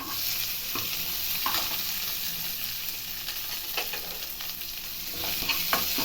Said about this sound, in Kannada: ಇದೊಂದು ಸ್ವಲ್ಪ ಒಂದು ಐದು ನಿಮಿಷ ಫ್ರೈ ಆಗಬೇಕು